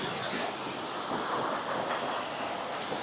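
Water pours steadily at Westfield Falls as a continuous broadband rush, even in loudness and heard alone.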